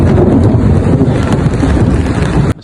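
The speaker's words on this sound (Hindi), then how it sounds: "आप लोगों को आवाज़ों से आइडिया हो तो क्या होगा कितनी तेज़ हवाएं चल रही हैं" Strong, gusty wind buffets the microphone on a cold, rainy day in New York, a loud, steady roar of broadband rumble that cuts off abruptly near the end.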